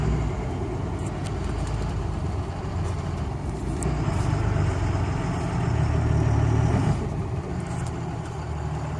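A 2003–2004 Cummins diesel pickup truck drives uphill under load, a steady, close low engine drone with road noise that swells a little midway, with no talk over it.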